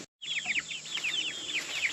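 Chickens on a farm giving a run of high, quick calls and chirps, close and fairly loud, after a brief moment of silence at the start.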